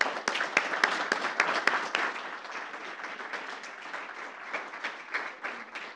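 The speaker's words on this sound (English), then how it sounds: "so let's give them a round of applause." An audience at a school board meeting applauds grant-winning teachers. The clapping is dense and sharp, with some loud individual claps at the start, and it thins slightly toward the end.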